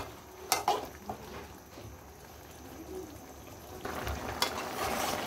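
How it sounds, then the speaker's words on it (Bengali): Rohu fish is stirred into a bubbling bottle gourd curry in a pot. A soft simmering sizzle runs throughout, with a few sharp utensil clanks near the start and again toward the end. "একটু নেড়ে চেড়ে মাছগুলো তরকারির সঙ্গে মিশিয়ে দিব"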